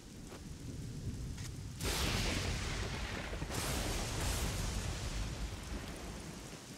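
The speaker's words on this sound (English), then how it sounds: "Until the storms came and drowned our paradise." Storm in the Battle Realms video game, with a dense steady roar of heavy rain and deep rolling thunder swelling in loud bursts, no voices.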